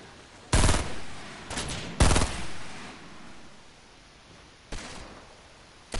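Three loud, sharp gunshot bursts in a video game, up close, at about half a second, two seconds and near five seconds, each ringing out and decaying over quiet background noise.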